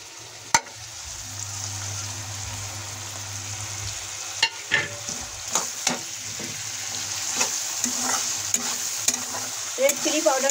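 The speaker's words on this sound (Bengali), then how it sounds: "এখন সবগুলো মশলা দেওয়া হয়ে গেছে, আমি ভালোভাবে ভেজে নেব।" Salt, turmeric, coriander powder and red chili powder fry in a pan for cauliflower aloo gobhi, giving a steady close sizzle. A spoon clacks and scrapes against the pan in uneven stirring strokes, with no talk.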